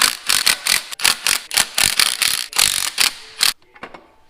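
A ratchet wrench clicks rapidly and loudly, backing out Allen bolts from a Spec clutch pressure plate on a 3000GT VR4, with several bursts of ratcheting followed by quieter metallic taps.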